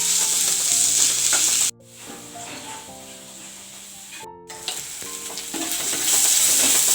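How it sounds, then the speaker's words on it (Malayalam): Onion, ginger, garlic and green chili fry in a pan for a home-made fish keema, sizzling steadily and loudly with stirring scrapes, and the sizzle briefly drops away twice. "ഇനി ഇഞ്ചി വെളുത്തുള്ളിയും സബോളയും പച്ചമുളകൊക്കെ കൂടിയിട്ട് നന്നായി നോക്കട്ടെ"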